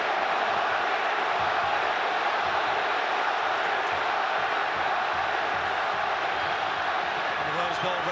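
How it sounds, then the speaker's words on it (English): Stadium crowd at the Rose Bowl cheering for Real Madrid during a friendly against Juventus, a steady, loud roar of many voices filling the whole stretch without letup. "the Rose Bowl regulars letting you know who they're here to cheer on tonight"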